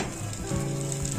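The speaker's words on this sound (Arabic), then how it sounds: "بتحطي طاسة وتحطي شوية زيت صغيرين بترصي عليه كده" Egyptian-style meat shawarma rolls sizzle steadily in a pan with a little oil, a close, loud, continuous frying hiss with no voices over it.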